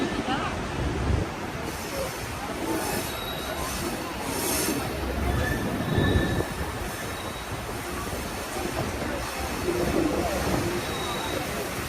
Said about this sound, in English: this is the train depot.